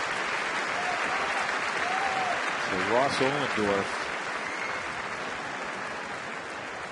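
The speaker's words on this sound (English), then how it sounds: "standing and clapping as they should." Baseball crowd at a Pirates–Rockies game standing and applauding, sustained dense clapping throughout with a broadcaster talking over it.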